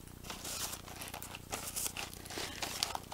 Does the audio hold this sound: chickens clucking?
no